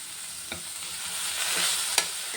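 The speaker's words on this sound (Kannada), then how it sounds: "ಇದಕ್ಕೆ ಲೈಟಾಗಿ ಸಣ್ಣ ಉರಿಲಿ ಹುರ್ಕೋತಾ ಇದ್ದೀನಿ" Something roasts in ghee over a low flame, a soft, steady sizzle with a few faint scrapes and taps from stirring.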